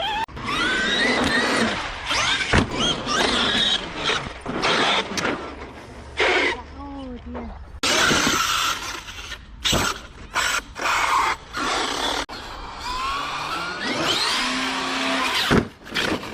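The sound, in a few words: stripped gears grinding on Traxxas X-Maxx 8S RC car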